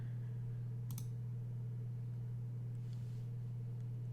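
A single sharp computer mouse click, saving a download on a PowerMac G5, sounds once near the start over a constant low electrical hum.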